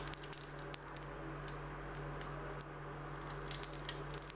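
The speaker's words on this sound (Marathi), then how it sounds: "मोहरी छान तडतडली आपली" Mustard seeds sputter in hot oil in a wok while cooking a cluster-bean dish. Faint, scattered pops and clicks sound over a low, steady background hum.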